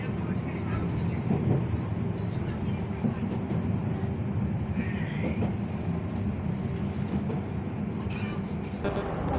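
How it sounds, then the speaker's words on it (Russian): A Polish suburban electric commuter train rumbles and rattles steadily at close range, with clanks and hiss over the running noise, while people talk faintly beneath. "это не поезд, это электричка"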